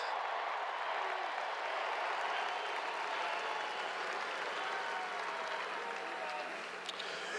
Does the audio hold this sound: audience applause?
yes